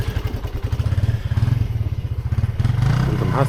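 A motorcycle ridden on an island road in Niue, heard as a close, loud, steady low engine throb with rhythmic pulsing and some rattling clatter.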